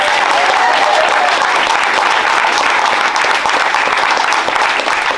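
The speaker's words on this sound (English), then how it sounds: "A big round of rapturous applause from everyone, please." A crowd at a presentation evening breaks into loud, continuous applause, dense clapping that holds steady from start to finish, with some cheering mixed in.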